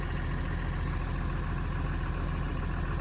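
A 2006 Cummins diesel engine running steadily with a low, rumbling mechanical drone, close and constant, with no clear rise in revs and no talk.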